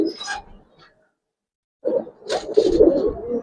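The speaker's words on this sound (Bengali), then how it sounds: "নটটা অনেক ভালো ডাকাডাকি করে" Giribaz pigeon cock cooing close by in short throaty bursts, one call, a silent pause, then a longer, louder run of rolling coos.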